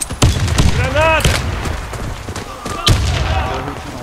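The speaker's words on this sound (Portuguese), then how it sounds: "Lançando granada!" Grenade blast and gunfire in the shooter Warface during a clan match, sharp loud shots and a bursting explosion mixed with radio-like voices and callouts.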